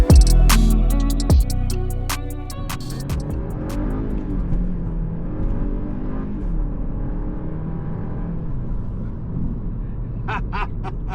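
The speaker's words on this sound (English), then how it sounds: "That's the 0 to 100 with the boost mode" A 2025 Mini John Cooper Works accelerating hard from a standstill to 100 km/h in boost mode, the engine roaring loud at launch, then rising through the gears as the noise settles into a steady, fainter drone heard from inside the cabin.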